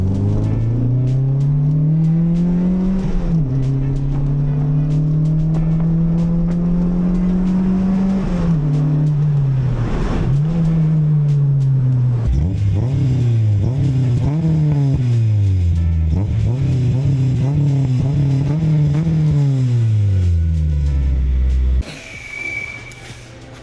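Car fitted with a new muffler exhaust in place of open headers, engine revving loudly and continuously up and down through several swells close by, with no talk, before cutting off near the end.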